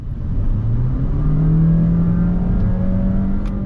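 A Honda Vezel hybrid, the HR-V e:HEV, pulls away under acceleration. Its steady, rising motor and engine whir climbs smoothly in pitch and stays loud and constant, heard from inside the cabin.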